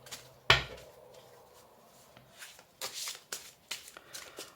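Oracle cards are shuffled and drawn during a tarot reading, starting with one sharp riffle of cards followed by a series of soft, quick papery flicks and slides, close and fairly quiet.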